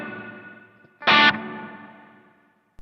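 A burst of distorted electric guitar through an M-Vave MK300 multi-effects unit's spring reverb bursts out briefly, then trails off in a long, washy reverb tail that slowly fades to silence.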